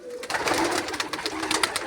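Pigeons coo close by in a soft, throaty series of repeated calls, with no talking over them.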